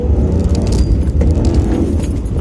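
A V8 Toyota Soarer's engine drones loud and close from the cabin as the car accelerates to 60, a heavy low rumble holding steady throughout with no speech.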